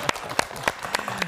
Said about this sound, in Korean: 여러분 박수 한번 주시겠습니까?